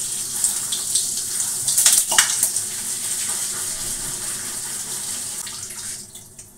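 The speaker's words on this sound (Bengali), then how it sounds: "এটা ধুয়ে দিচ্ছি।" Tap water runs over yardlong beans, teasel gourd and potatoes being washed, a continuous close splashing rush that swells briefly midway and fades toward the end.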